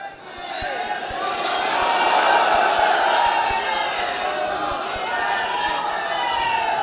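A large crowd at a gathering at the Ajmer Dargah shouts a religious slogan in unison as one loud, sustained collective roar. Faint rhythmic thumps run underneath the voices.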